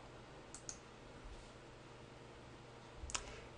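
Two soft mouse clicks on the insert button in an OpenCart admin screen, one near the start and a slightly louder one near the end, faint and isolated over quiet room hiss.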